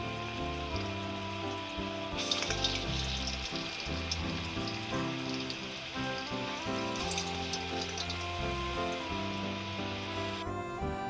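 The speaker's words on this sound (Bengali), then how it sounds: "দিয়ে ভেজে নিতে হবে।" Rosh bora, lentil fritters, sizzle in hot oil in a home kitchen, a continuous crackling fry with bursts of sharper spitting, heard alone under a faint background hum.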